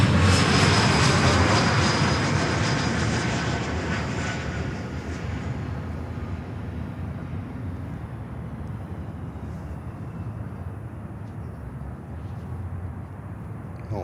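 A fixed-wing airplane, likely a cargo jet at Miami International Airport, roars loudly as it comes in on runway 9, then its engine noise fades into a steady, lower broadband rumble.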